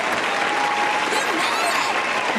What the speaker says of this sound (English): Where's the round of applause for that one?